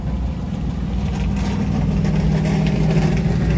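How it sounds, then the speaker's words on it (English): A car engine with a knock runs at a steady low idle, its rough, pulsing drone loud and close throughout, with no voices over it. "This guy's knocking engine."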